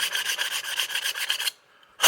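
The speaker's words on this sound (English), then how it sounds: "And how I do that is with a 5/32 chainsaw file." A 5/32 chainsaw file rasps back and forth through the hinge-pin hole of an RC car front suspension arm, steady rhythmic strokes for about a second and a half, a brief pause, then another stroke begins.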